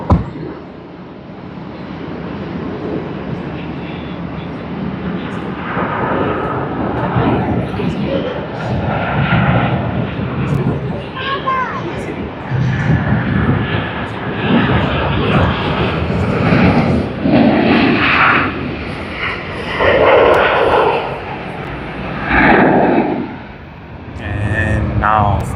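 An airliner takes off at Sydney Airport, its jet engines producing a loud, broad roar that swells and pulses for over twenty seconds, with a voice talking intermittently over it.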